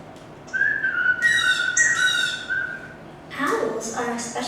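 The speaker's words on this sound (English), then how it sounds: "If you listen, you can hear them whistling to each other." Forest birds whistling to each other, a few clear, bright whistled phrases close up, rising and falling in short bursts with pauses between.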